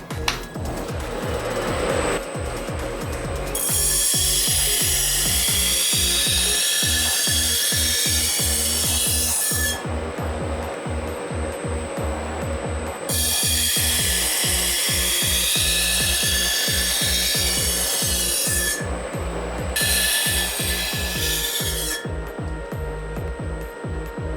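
A kitchen knife is sharpened with stroke after stroke across a stone, switching sides. The strokes make a brisk, rhythmic scraping and rasping that comes in long bursts with short breaks, close and loud, and no one speaks.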